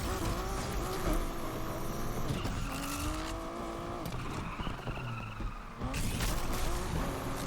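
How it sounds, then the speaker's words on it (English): Aston Martin Vulcan supercar engine in the racing game Need for Speed Unbound, loud and close, with rising and falling revs through gear changes, a boost-driven roar and some tire squeal. "I love the way this car sounds."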